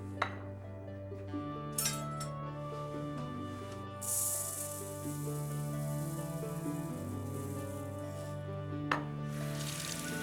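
Rice being rinsed under a running tap in a home kitchen: a steady stream of water with soft swishing, a few light clinks of the pot, and a brief louder splash burst partway through.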